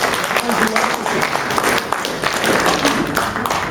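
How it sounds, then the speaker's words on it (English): An audience at a live stage show applauds a volunteer, a dense, loud burst of many hands clapping together that fills the room with steady crowd noise throughout. "Can we give Anne a round of applause?"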